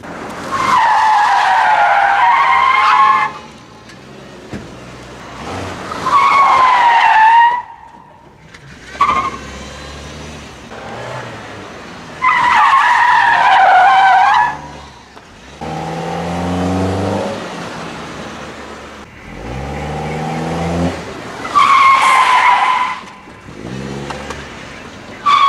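Tires screech and skid in repeated bursts during a car ride, the engine revving and surging between squeals, loud and close throughout.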